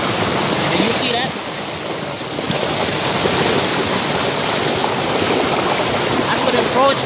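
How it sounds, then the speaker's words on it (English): Water falls beside a creek in a broad, steady rushing hiss, loud and close, continuing evenly throughout with a slight dip early on. "Falling water here. Catching falling water."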